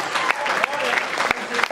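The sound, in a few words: audience applause at start of Froch Groves UK Tour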